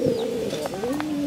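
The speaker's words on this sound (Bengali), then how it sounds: "কাবুতর" A pigeon coos in a low, soft warble over about a second, close by, against steady outdoor background noise with no talk.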